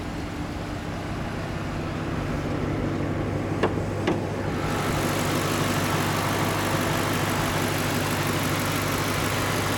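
A 2010 Ford Mustang GT's 4.6-liter V8 idles with a steady low rumble, a couple of brief clicks partway through, then the idle continues unchanged.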